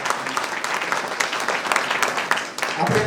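Applause for a donor at a Sorathiya Prajapati community mass wedding in Upleta, a dense crowd clapping steadily for about three seconds at moderate distance.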